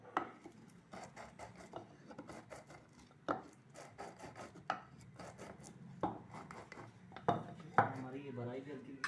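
Seeds for homemade pigeon food are pounded and ground by hand, giving irregular close thuds and knocks with scraping grinding in between, at a fairly quiet level.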